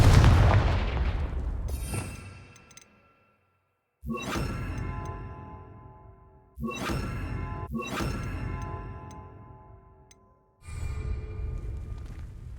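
Confringo blasting spells in Hogwarts Legacy go off as a run of five heavy, booming explosions, each with a sharp crack that decays into a long rumbling tail, separated by brief silences.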